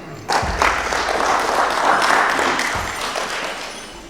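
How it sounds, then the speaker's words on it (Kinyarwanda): An audience claps for the artists at a Rwandan event. The applause begins abruptly, holds as a dense mid-level wash for a few seconds with a few thumps, then begins to fade. No one speaks over it. "Abahanzi mukuri ingirakamaro mwongere mubahe amashyi."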